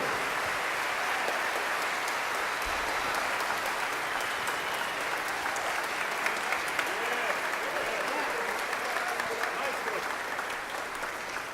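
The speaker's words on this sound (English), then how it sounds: "How about a warm round of applause for the Wilshire Wind Symphony" A large concert audience in a church applauds a wind symphony with dense, sustained clapping that fills the room at an even level from start to finish.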